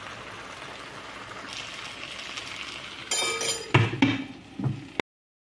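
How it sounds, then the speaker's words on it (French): A metal lid clinks onto a pot of simmering mutton tripe with vegetables and spices, a few sharp clattering knocks and a rattle after a soft bubbling background. "Je vais fermer et je vais laisser mijoter à feu d'eau."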